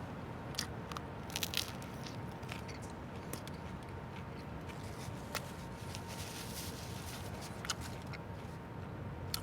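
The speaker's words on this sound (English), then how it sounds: "Can you hear the crunch of the bread?" Crisp crunching bites into the crusty bread of a banh mi sandwich, with sharp crackly bursts over a steady close chewing texture, no talking.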